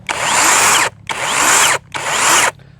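A small 42-volt cordless Makita electric chainsaw revs in three high-pitched bursts, each about a second long, separated by brief pauses, loud and close with no talking.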